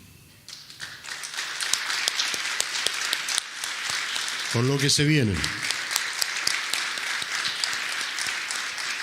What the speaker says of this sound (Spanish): Yo quiero darle un aplauso al Señor